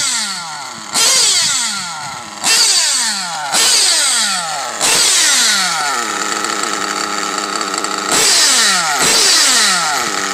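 A modded nitro RC buggy engine running close by, with loud, raspy revving in repeated bursts that rise and fall, settling briefly toward idle between throttle blips.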